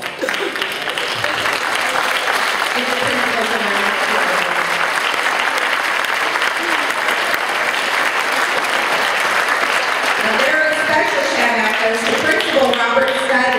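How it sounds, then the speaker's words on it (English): Sustained audience applause for school principals at an elementary school county music festival fills the whole stretch, steady and dense, with voices rising over the clapping toward the end. "would you stand and let us give you a nice round of applause"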